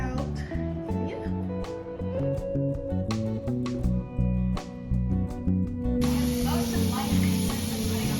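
Water sprays from a handheld nozzle while dyed hair on a frontal wig is rinsed, a steady hiss that swells in the last couple of seconds beneath loud background music.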